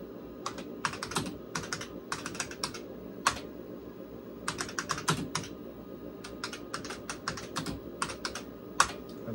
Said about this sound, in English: I love this keyboard, though.